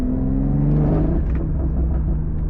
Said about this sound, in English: You know, I'm driving an M340.